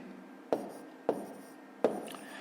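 A pen writes numbers on paper while working a fifth-grade division problem: three brief, distinct scratches spaced roughly half a second apart, close and soft, with no talking.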